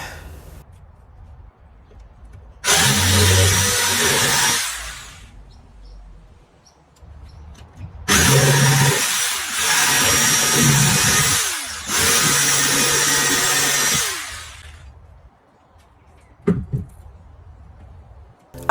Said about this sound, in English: I thought I'll just try the jigsaw and see what happens.